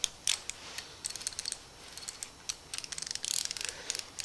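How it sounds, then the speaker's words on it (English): A cheap ratchet with poorly made teeth of very cheap metal clicks repeatedly as it is turned in both directions, giving rapid bursts of light, sharp ticks with short pauses, close and fairly quiet. "So this is the way it should go for ratcheting. But look, it turns both ways."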